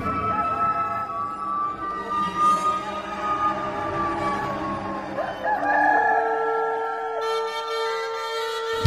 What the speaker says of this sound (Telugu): వెంటనే కోడి కూశాను.